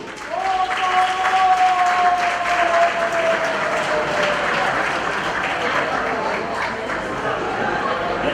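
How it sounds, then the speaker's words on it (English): Gala crowd at a Northern Uganda film awards event gives a sustained round of applause for a guest speaker, dense even clapping with a faint tone and a murmur of chatter underneath. "Let's clap for that gentleman."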